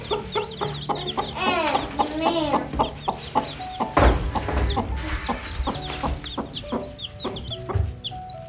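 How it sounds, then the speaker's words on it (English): Hens cluck steadily and close by among newly hatched baby chicks on a homestead, with sharp rising peeps and short calls overlapping throughout. "Two mommy, two baby chicks."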